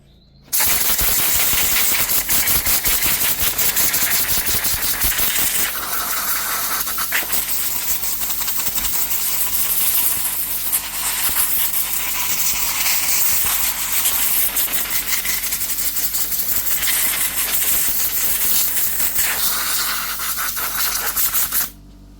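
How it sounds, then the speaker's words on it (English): A loud, continuous compressed-air blast blows dust out of a Hikoki G12SXT angle grinder, a harsh hissing roar with rapid rattling that runs unbroken for about twenty seconds before cutting off. "I'm going to blow that down because I don't want to be getting dirt and dust into here"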